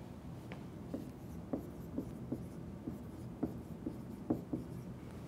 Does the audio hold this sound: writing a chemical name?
yes